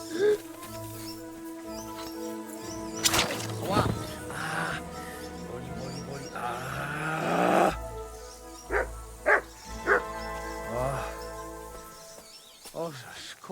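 A dog in the medieval game Kingdom Come: Deliverance 2 barks in several short bursts, some close together, over steady background music, with someone talking at times.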